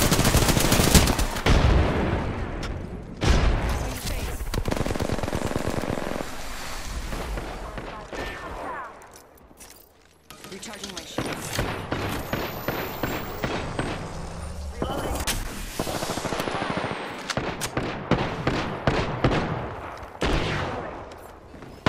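Automatic gunfire bursts in the Apex Legends video game, loud and dense, with rapid rattling volleys, thumping explosions and a brief lull midway before the shooting resumes, with in-game voice callouts mixed in.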